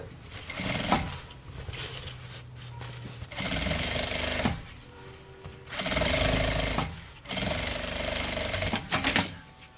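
A sewing machine stitches a summer bag in several loud, fast-running bursts of a few seconds each, separated by pauses filled with handling noises, clicks and quiet background.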